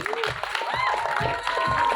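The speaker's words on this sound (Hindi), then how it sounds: "जोरदार ताली होनी चाहिए डायरेक्टर अनुराग सिंह के लिए" Audience applause at the Mumbai trailer launch of the film Border 2, a dense, steady clapping that fills the whole two seconds, with a sustained tone and voices running underneath.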